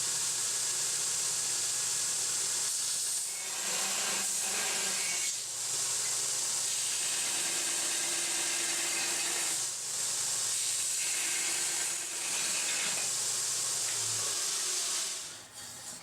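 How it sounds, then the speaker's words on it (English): A belt grinder works a metal part with a steady, harsh hiss that holds for about sixteen seconds, dipping briefly at times as the part is eased off the belt, then dropping away at the end. "So belt grinder it is."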